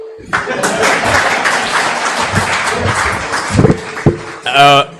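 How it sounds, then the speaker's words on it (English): A crowd claps steadily in a burst of applause that fades out, followed by a few brief louder sounds at the end. "A round of applause as he goes back."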